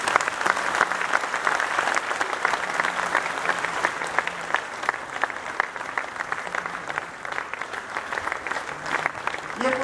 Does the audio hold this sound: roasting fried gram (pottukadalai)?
no